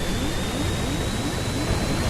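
A steady, loud roar of an airplane in flight in the Stranded Deep video game, a continuous broadband engine drone with a slow rhythmic sweep running through the whole stretch, no voices.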